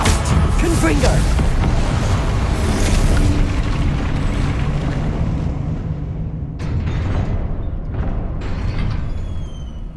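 The Confringo fire spell explodes in Hogwarts Legacy, loud booming blasts and crackling bursts over a continuous rumble, with a few sharper pops near the end.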